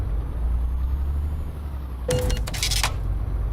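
In Euro Truck Simulator 2, a truck collision cuts through a low, steady engine drone as a sudden harsh crash that lasts under a second, followed by a shorter crunching burst, then the drone resumes.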